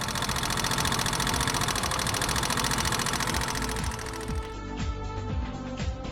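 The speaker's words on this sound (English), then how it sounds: "A sharp metallic noise heard in the idling stage from the upper side of the engine, which increases with a rise in engine temperature." An engine idling with tappet noise from loose tappet screws and nuts, a steady rapid metallic ticking over the running engine, loud and close, with no voices.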